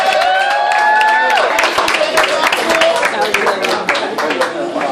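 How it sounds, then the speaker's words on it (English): Crowd applause for a player at a basketball team awards night, dense clapping with some cheering that runs throughout, mixed with speech and background voices. "Give him a round of applause."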